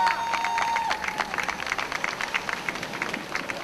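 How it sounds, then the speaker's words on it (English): Outdoor crowd at the Global Marijuana March 2007 in Cincinnati claps in scattered, moderate applause that stays steady throughout, with a brief tone at the start and no clear talk over it. "let's give Linda a big round of applause for putting this thing together"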